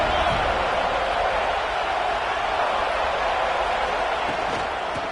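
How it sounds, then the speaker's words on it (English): A football stadium crowd at an LSU versus Noles game, roaring a loud, ear-splitting welcome to the visiting team as a steady, dense wall of cheering that holds throughout. "This crowd bringing an ear-splitting welcome to their visitors"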